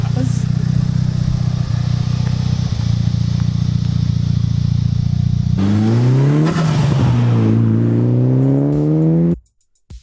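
A Mitsubishi Evo 6.5 Tommi Makinen edition with its 4G63 engine idles loudly and close, then revs up hard, rising and falling in pitch before cutting off abruptly near the end.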